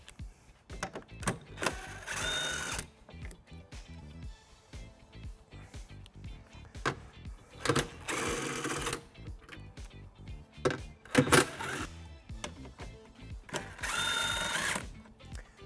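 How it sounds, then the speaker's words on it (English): Hand socket and power driver with a 10mm socket backing out bracket bolts on a 2020 Tesla Model Y during a trailer hitch install, several bursts of whirring driver noise between ratcheting clicks and metallic handling, close and moderately loud. "We're gonna remove those using a 10mm socket."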